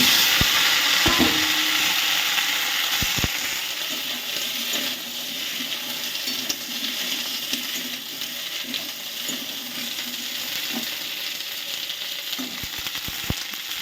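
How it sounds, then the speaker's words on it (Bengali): Okra frying in hot oil in a home kitchen: a steady, loud, crackling sizzle runs throughout, broken by a few sharp clicks and taps of stirring, with no talking. "এবার আমি ঢ্যাঁড়সগুলোকে ভেজে নেব"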